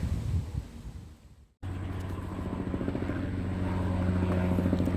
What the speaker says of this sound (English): I'm hearing a second helicopter.